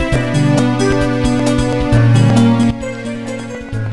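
Underwater cavern music from the Super Mario 64 video game plays loud and clear, a layered melody over a steady drum beat with regular percussive hits, with no talking over it.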